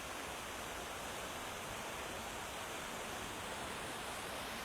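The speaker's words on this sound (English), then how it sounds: "they're honing their skills coming through the rapids there" White-water rapids rush along the River Findhorn, a soft, constant broadband roar heard from some distance, steady and unbroken.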